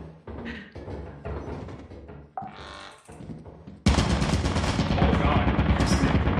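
Turret gunfire in a multiplayer shooter, first heard as scattered sharp shots and thumps, then a sudden loud, dense burst of continuous rapid fire that fills the second half.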